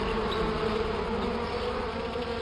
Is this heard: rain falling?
no